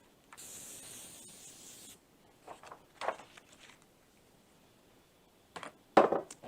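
A continuous spray hiss lasting under two seconds as a design is sprayed onto fabric, followed by soft rubbing and handling noises and a sharp clatter near the end.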